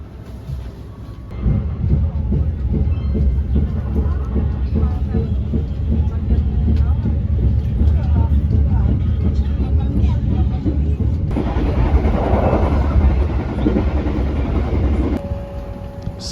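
Inside the Airlangga, a low-cost subsidized PSO economy passenger train running from Jakarta to Surabaya, a loud continuous low rumble and rattle fills the carriage, shifting in texture near the end as a steady tone briefly appears.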